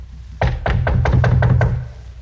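In an old-time radio drama, a fist knocks on a door about seven times in a quick, evenly spaced series of loud, close hollow raps, then the room falls quiet.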